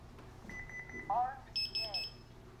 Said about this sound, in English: you get the arm exit beep right at the siren to let you know, okay, you're armed